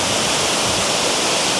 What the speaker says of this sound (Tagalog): Multiple tier level waterfalls